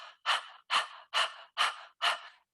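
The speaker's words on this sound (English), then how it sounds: "breath of fire, a great way to start is put your hand on your belly, and I want you to exhale as if you're panting" Five rapid, forceful breath-of-fire exhales from yoga practice, sharp panting bursts through the throat at an even rhythm, close and clear with silence between them.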